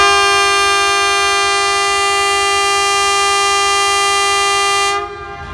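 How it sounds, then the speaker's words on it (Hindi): A Pakistan Railways train near Jhelum sounds a loud, steady departure whistle that holds one sustained tone for about five seconds before cutting off abruptly, with faint ambient noise beneath. "डिपार्चर विसल हो चुके"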